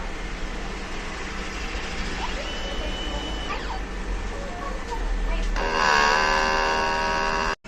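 A DTF printer runs a print head cleaning cycle: a steady mechanical hum with whirring motor tones that swell louder near the end before stopping abruptly.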